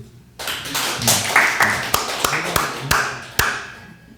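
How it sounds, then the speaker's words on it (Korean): Applause from a church congregation: a scattered burst of hand clapping that rises quickly, with individual sharp claps standing out, then thins and fades after about four seconds. "한 박수 쳐줘요. 박수."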